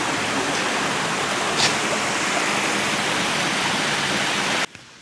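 Naalon Falls pours down with a loud, steady broadband rush of water close by, dense and unbroken until it cuts out abruptly near the end, with no voices.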